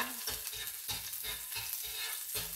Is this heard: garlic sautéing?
yes